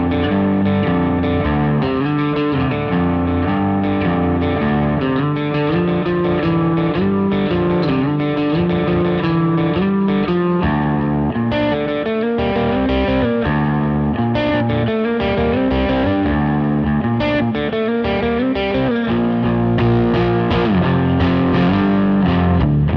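Distorted electric guitar played through a Quad Cortex amp modeler with chorus-like effects, a continuous loud riff with chords and picked notes running steadily throughout, no talking.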